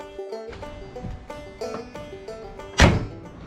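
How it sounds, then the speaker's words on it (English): The door of a Porsche 914, newly insulated and sealed with its window rollers replaced, closes with one solid clunk near the end, after a few faint knocks and handling noises close by in a garage. "I'll let you guys experience the satisfying clunk of an insulated, sealed, ready to roll up window door"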